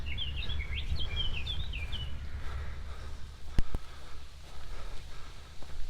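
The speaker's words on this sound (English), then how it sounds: "I can hear plenty of wildlife. I can hear all the birds." Several birds chirp and trill in reed beds by a river in Norfolk, England, in the first couple of seconds over a low steady outdoor rumble, then a soft knock or two amid quieter background noise.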